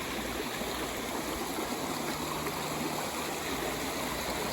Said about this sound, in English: Except maybe for the water flowing under it.